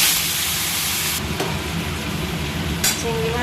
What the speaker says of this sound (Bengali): চিংড়ি মাছটা এদিকে ভেজে নিচ্ছি